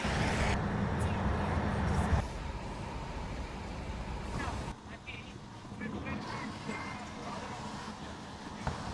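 Inside a driverless taxi moving through Shanghai at night, a steady low road and engine rumble continues, with shifts in the cabin noise and speech over it.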